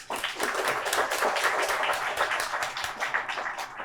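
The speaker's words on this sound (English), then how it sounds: "So let's give them a great round of applause." Audience at a student award event applauds sponsors with dense, steady clapping that holds at an even level throughout and fades slightly at the end, with no voices.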